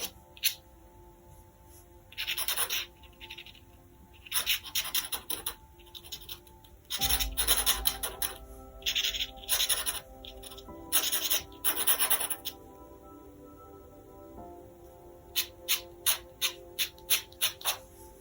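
A pencil scratching on paper while shading a drawing, in repeated short bursts of rough scratchy strokes, close and fairly loud, with quicker rhythmic strokes near the end.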